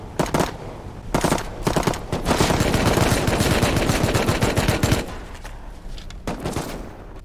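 Rapid video game gunfire crackles in loud bursts of automatic shots with brief pauses between volleys, continuous in the middle and thinning out toward the end.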